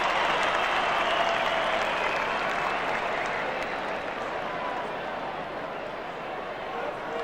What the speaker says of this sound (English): You hear the fans giving him a cheer.